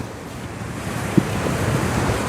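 Ocean waves washing onto the seashore, a continuous rushing surf with wind over it and one brief knock midway, no speech.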